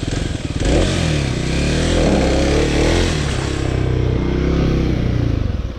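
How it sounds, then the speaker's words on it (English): A Kawasaki KLX300 dirt bike revs hard while its rear tire spins without grip, the engine holding a loud, close, buzzing drone that rises and dips across several seconds. "Yeah, it's just spinning the rear tire."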